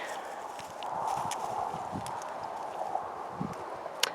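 Slow, irregular hoof clops of a horse walking loose on soft ground, fairly close, with a low background hum and a few sharper knocks.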